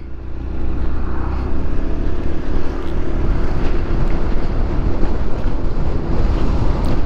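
Strong wind roars over the microphone during an overcast afternoon in Chonburi, heard while riding an Xmax scooter: a loud, steady low rumble and buffeting that runs the whole time with no talking.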